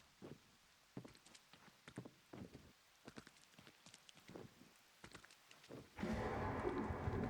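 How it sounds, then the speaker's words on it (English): Rain begins in the video game Go Wayback: footsteps or light taps are spaced over a quiet background, then a loud, steady rain hiss suddenly takes over for the final second and a half. "And now we're getting rain."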